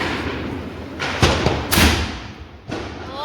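Diwali firecrackers going off outdoors during a festive night celebration, giving three fairly close, sharp booming blasts spaced over a few seconds, each with a short rumbling tail and a faint background hiss in between.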